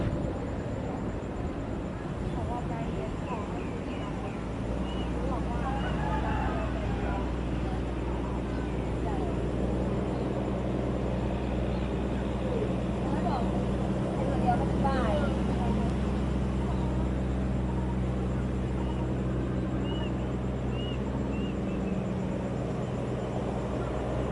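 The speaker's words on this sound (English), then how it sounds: "I have a bit of footage of some boat activity" Steady low engine rumble of boats on a river at Ayutthaya, Thailand, continuous and fairly loud, with faint scattered background noises and no speech.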